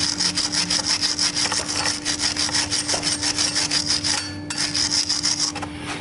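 A hand-held wire brush scrubs a WD-40-soaked part of a Honda VTR 1000 Firestorm motorcycle, a quick, rhythmic back-and-forth scraping with bright hissing strokes, close and steady, with a faint constant hum underneath.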